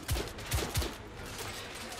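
Three heavy, closely spaced gunshot bursts from a machine gun turret in The Order 1886, booming low and near, then a rumbling tail with no talk over it.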